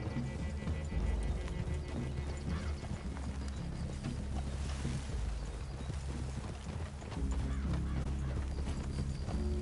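Horses in Red Dead Redemption 2 move with continuous clip-clop hoofbeats, mid-distance and steady, mixed with game ambience and faint background music.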